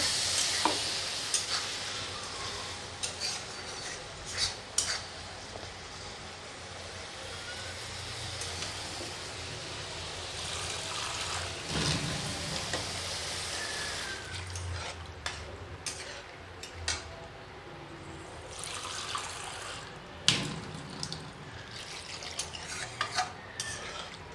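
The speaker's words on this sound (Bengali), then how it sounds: "মশলা কষানো হয়ে গেছে দিয়ে দিচ্ছি জল" Water goes into a pan of fried spice paste for a Bengali fish curry, setting off a steady hiss and bubbling sizzle with occasional clinks and stirring scrapes; no one speaks.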